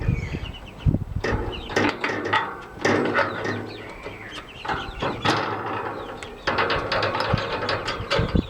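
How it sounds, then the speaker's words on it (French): Pliers twist and tighten wire on a chicken coop, giving irregular scraping, clicking metal sounds in bursts close by, with occasional background clucks from hens in a garden setting. "prenez votre pince et vous serrez."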